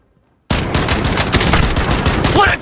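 Dense, continuous automatic gunfire in the Warzone battle-royale video game, a loud sustained fusillade of rapid shots starting abruptly after a brief silence and running to the end.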